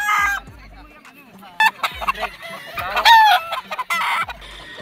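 A Sweater gamefowl rooster on a game farm clucks in a close, loud series of sharp calls, with brief crow-like bursts broken by short pauses.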